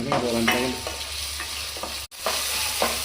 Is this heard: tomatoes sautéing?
yes